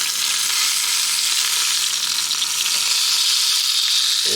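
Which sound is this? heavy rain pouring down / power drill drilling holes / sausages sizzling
sausages sizzling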